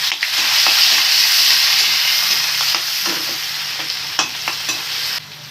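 Pumpkin leaves for makhan saag fry in hot oil with popped mustard seeds, giving a loud, steady sizzle broken by scraping stirring strokes and no talking.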